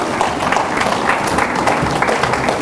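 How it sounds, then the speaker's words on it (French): A church congregation applauds loudly and steadily, dense crowd clapping filling the room evenly from start to finish with no pauses. "Acclamons la parole du Seigneur."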